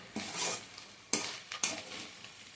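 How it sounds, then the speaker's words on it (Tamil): A spoon scrapes and clanks against a pan while egg rice is stirred, giving a few sharp metallic knocks and scrapes spaced apart, quiet and close with no voices. "ஃபைனலாக நல்லா எக்கும் ரைஸும் போட்டு நல்லா கிளறிட்டோம்"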